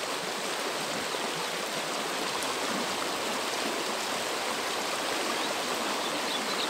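Strong, clear stream water rushes continuously and evenly in the interior of Pará, a dense close flowing wash with no talking.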